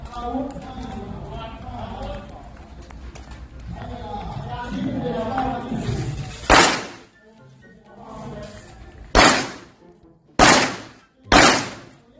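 Gunshots ring out at a shooting range, four loud, sharp reports spaced a second or two apart, following a stretch of talk and background chatter.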